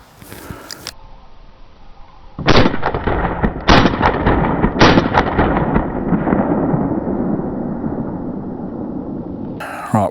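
A Retay S2022 blank-firing pistol fires three sharp, loud, close reports about a second apart, each followed by a long reverberating echo, with another crack at the very end.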